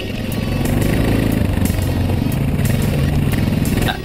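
A dirt bike engine runs on a trail in White Sulfur, a loud, close, steady putter of mid-range engine noise that holds for several seconds before dropping off at the end.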